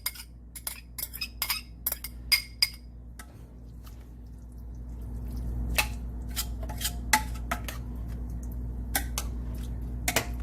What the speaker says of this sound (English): I'm going to add back in my onions and beans